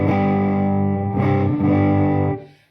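A distorted electric guitar rings out through a Chevtone Honeyburst overdrive pedal on its germanium setting, a few sustained chords with a warm, saturated tone fading at the end.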